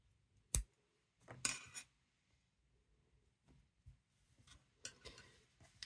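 Quiet handling of scissors up close while crocheting: a couple of sharp metallic snips and clicks cutting yarn, followed by soft scattered rustles and taps.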